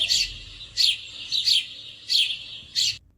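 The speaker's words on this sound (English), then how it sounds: "Sparrow is a small and cheerful bird. Sparrow generally found everywhere. Sparrow कैसे बोलती है?" A small sparrow chirps in five or six bright, brief bursts at an even pace, close and clear against a quiet background.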